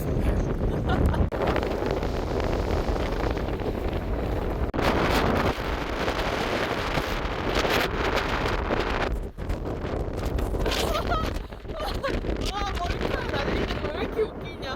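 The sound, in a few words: strong wind at Woljeong-ri beach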